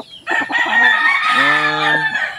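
A ten-month-old gamecock rooster crows once, loud and close. The crow is harsh and rising, then settles into a held, strongly harmonic tone lasting about two seconds, with no talking over it.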